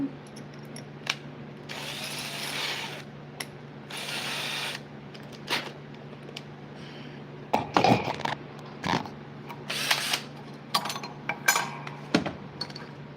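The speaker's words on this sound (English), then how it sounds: "Let's find us a screw gun." Rattling mechanical bursts and sharp clacks from a screw gun driving screws in a workshop, irregular and close, with quieter gaps between runs and no talk.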